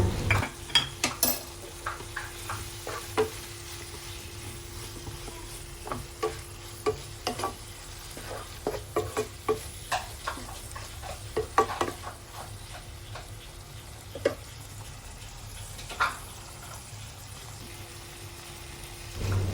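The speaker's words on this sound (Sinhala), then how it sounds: "එකතු කරලා හැන්දෙන් හොඳින් කලවම් කරගන්න" A spoon stirs soya meat curry sauce in a pan, making intermittent scrapes and light clinks against the metal over a low sizzle. The sound is close and the pace is unhurried, with no voices.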